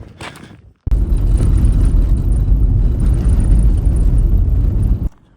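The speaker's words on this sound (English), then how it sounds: "We're just driving along the Ghan Heritage Trail" A vehicle drives along the Ghan Heritage Trail, a loud, continuous low rumbling road and engine roar with wind, starting suddenly after a short gap and cutting off near the end.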